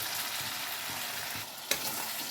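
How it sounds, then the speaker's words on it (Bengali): A spice paste with yogurt and garam masala powder frying in a pan, a steady close sizzle with soft stirring scrapes and one sharp clink near the end, no voices. "টক দই দিলাম দুই চামচে মশলাটা কষার সময় আমি গরম মশলার গুঁড়ো একটু দিয়ে দিলাম"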